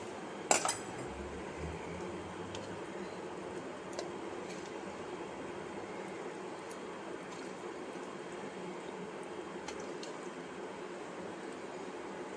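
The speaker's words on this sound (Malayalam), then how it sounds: "ഇനി ഇതിലേക്ക് മീൻ കഷ്ണം ഇട്ട് കൊടുക്കാം" Sardine pieces dropped into curry masala in a pot, a sharp clatter at the start followed by a soft steady simmer with a few faint metallic clinks.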